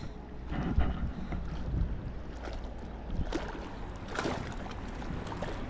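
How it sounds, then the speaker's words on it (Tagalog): Strong gusting wind buffets the microphone out among the mangroves on a boat, a rough, rumbling roar that swells and eases, with no speech. "Malakas ang hangin."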